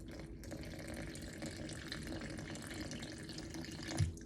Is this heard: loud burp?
no